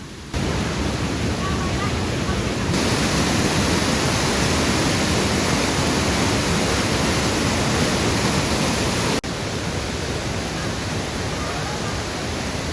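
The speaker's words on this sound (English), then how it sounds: "Here's the creek comes down here, here's the falls." Loud, dense roar of a waterfall on a creek beside the Kancamagus Highway, a constant close-up rushing hiss filling the whole clip without a break.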